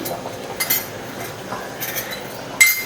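A spoon gently stirs Gobindobhog rice khichuri in a cooking pot, making a few light clinks against the metal over a soft steady background, with no speech.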